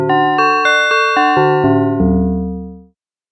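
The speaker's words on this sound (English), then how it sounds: "As you can hear, it sounds very metallic. It is great for effect sounds or bell-type sounds." A metallic, bell-like synthesizer patch from Rob Papen software plays a sequence of about eight struck tones in a steady rhythm, each ringing with bright inharmonic overtones, then fades out cleanly into silence with no voice present.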